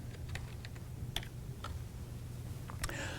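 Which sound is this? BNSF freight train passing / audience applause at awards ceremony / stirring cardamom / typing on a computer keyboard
typing on a computer keyboard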